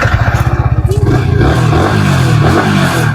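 Yamaha R15 version 3 motorcycle engine cranks with a rapid rhythmic chugging, then starts and runs at a loud, close, steady idle.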